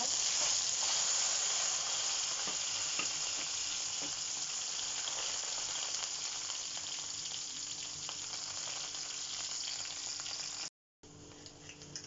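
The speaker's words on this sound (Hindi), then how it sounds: "जीरा हो चुका, मैं गिर देती हूँ प्याज।" Onions sizzle loudly in hot oil with cumin seeds, a steady, close frying hiss that carries on for about ten seconds before a brief cut, then resumes more quietly.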